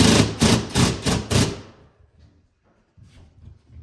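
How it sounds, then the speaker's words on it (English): A drywall gun drives fasteners into drywall in five quick, loud, evenly spaced bursts, then stops, leaving near silence with a faint shuffle afterward. "And you just want to drive them in enough so it goes inside the drywall."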